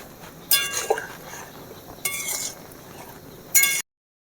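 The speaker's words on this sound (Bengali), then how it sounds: "সসটা দেওয়ার পর ভালো করে নেড়ে দিতে হবে" Soybean dopiaza with tomato sauce being stirred in a pan, three separate bursts of scraping and clinking of a utensil against metal, close and fairly loud, with quiet gaps between and no talking.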